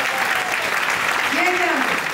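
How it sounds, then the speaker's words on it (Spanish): Audience at a talk applauding heartily, a thick continuous patter of many hands at close range that holds steady, with a voice speaking over the clapping partway through. "Dense un aplauso bien grande."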